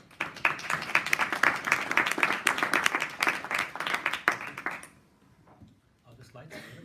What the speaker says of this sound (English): join me in a round of applause for Jon-Erik Fossum.